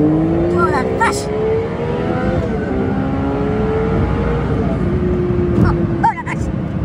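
A Lotus Evora S mid-engine supercharged sports car engine revs and accelerates with rising, steady tones, loud and close, on the Autobahn, while people talk excitedly over it.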